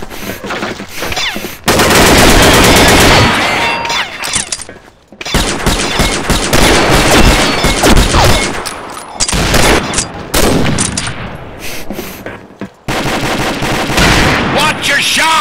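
Heavy automatic gunfire and rapid bursts fill a video game round, loud and dense with short gaps between volleys, almost continuous across the stretch.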